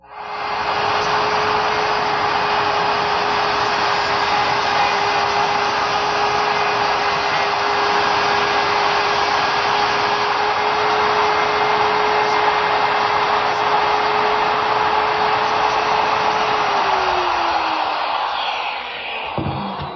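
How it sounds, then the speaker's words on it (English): A router removes the bulk of the wood from a scored joint for a French side table, a loud, steady roaring whine that runs unbroken and close before the motor winds down near the end. "Now I'll be able to remove the bulk of the material with my router."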